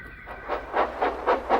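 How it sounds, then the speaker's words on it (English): Thomas the tank engine, a small steam locomotive, puffs along in four or five evenly spaced, rising chuffs of steam over a soft hiss, growing steadily louder and nearer. "Thomas puffed his way to the quarry backwards"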